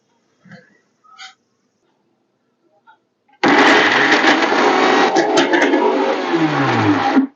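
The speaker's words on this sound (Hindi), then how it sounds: "इसे पल्स में हमें पीसना है क्योंकि ये बहुत ज्यादा क्वांटिटी है" An electric blender grinds a thick ginger-garlic paste with oil, starting abruptly after a few soft kitchen clinks and running loud and steady for about four seconds, its motor strain shifting as the mixture churns.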